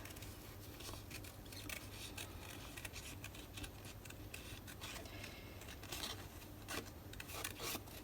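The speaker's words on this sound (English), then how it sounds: "Maybe if I had better scissors, I would enjoy the fussy cutting process." Scissors snipping and rubbing through paper while fussy cutting pieces for a Hobonichi Cousin journal, a steady close run of faint crisp cuts and rustles with no talk.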